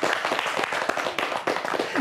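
An indoor audience claps steadily for about two seconds, a dense patter of many hands at moderate volume from a live evening show in Gomel.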